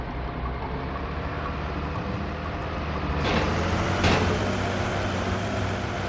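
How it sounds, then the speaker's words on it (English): A steady low road rumble of a car engine in the video game Metal Gear Solid 4 swells slightly as it draws closer, with a brief hiss midway, no voices. "Oh wait, I hear a car coming in."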